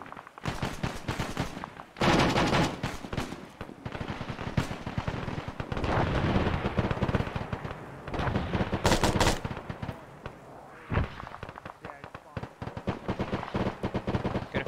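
Heavy artillery and gunfire in the military video game ARMA, with repeated loud blasts and bursts of rapid fire across the whole stretch, over a few moments of quieter rumble.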